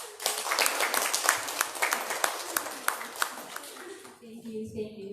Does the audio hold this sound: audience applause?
yes